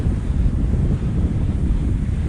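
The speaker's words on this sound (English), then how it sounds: "This is so windy along here." Strong wind buffets the microphone near Norman Cross, Peterborough, England, in a steady, heavy low rumble that keeps going without a break, with no voices.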